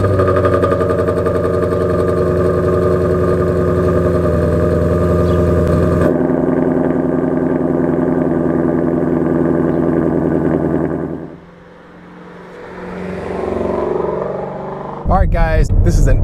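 A 2019 Ford Mustang Shelby GT350 drives along with its engine droning steadily and loud, dropping off briefly before rising again, with someone talking over it.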